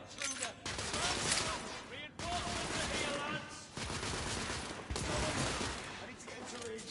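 Dense gunfire from The Order 1886 rattles almost nonstop in loud overlapping bursts, close and harsh, with brief gaps between volleys.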